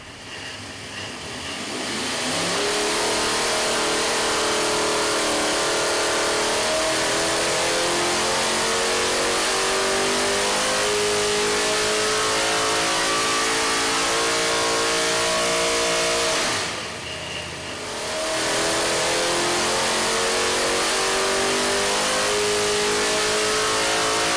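Loud dirt modified race engine roaring on a dyno, revving steadily upward under load from 4,500 to 7,100 RPM, a sustained rising drone that briefly drops off before climbing again.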